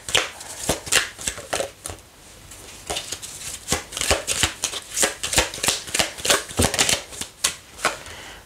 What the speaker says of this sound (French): je prends que les cartes qui se retournent.